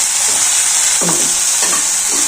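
Tamarind leaves and aubergine cooking in a pan as a little water goes in, giving a steady close sizzle and hiss with a couple of brief scraping stirs.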